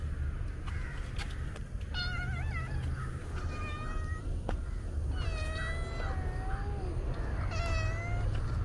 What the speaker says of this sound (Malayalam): ചെവിയില്ലാത്ത പൂച്ച